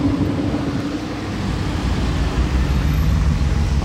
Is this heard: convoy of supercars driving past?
yes